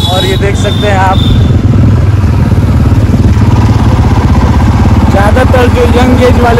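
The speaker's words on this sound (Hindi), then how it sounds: "जैसे हम लोग बाइक से निकले हुए हैं" A motorcycle engine runs during a street Holi ride on Station Road in Padrauna, a steady close chugging drone heard throughout, with loud voices and festival noise layered over it.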